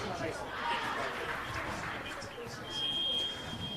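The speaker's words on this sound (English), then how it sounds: "there goes the buzzer" A buzzer sounds at a women's premier handball league match, a thin steady tone coming in near the end over crowd murmur and a voice talking.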